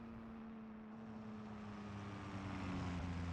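A tractor engine in BeamNG.drive, in first gear climbing a steep hill, drones steadily with a low, even hum that swells slightly louder toward the end, with no talk over it.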